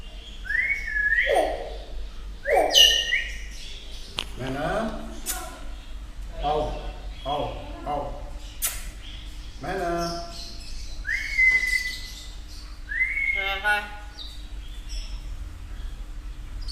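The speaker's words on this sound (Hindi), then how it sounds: "ये मैना बोलती है अल्लाहू।" A Malaysian talking myna calls from close by with sharp rising whistles, chirps and squawking phrase-like sounds in short bursts, while people talk around it.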